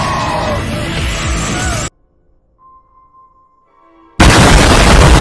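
A loud, roaring explosion bursts in the air, cuts to near silence with a faint tone, then another loud burst of roaring noise follows.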